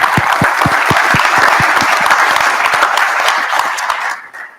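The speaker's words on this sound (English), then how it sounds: "So let's clap it up for them." A conference audience at a global supply chain summit plenary applauds the event organizers, a dense wash of clapping with a few deep thuds, steady for about four seconds before quickly dying away.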